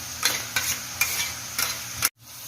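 Ginger, garlic and raw onion paste hits hot tempering oil for pav bhaji, crackling and sizzling steadily while a spoon scrapes the pan in about four regular stirring strokes, close and clear before cutting off abruptly.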